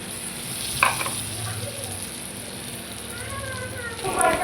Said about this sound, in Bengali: নুন হলুদ দিয়ে ভালো করে ফ্রাই করে নেব